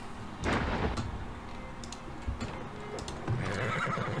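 A horse whinnies in the Farthest Frontier video game, a loud, clear neigh near the start with clip-clop hooves and other settlement sounds, then a second, higher whinny toward the end.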